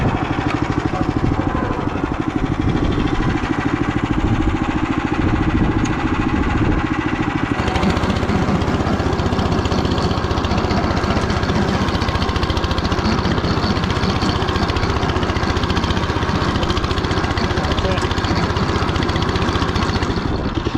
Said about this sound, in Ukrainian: одна соломинка на одному ножі з'явиться і вже фреза працює не так впевнена